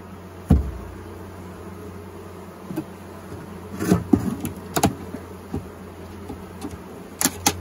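Honey bees buzzing during an inspection of a long hive, with a low hum throughout and scattered clicks and knocks of frames and tools nearby, fairly close but not loud.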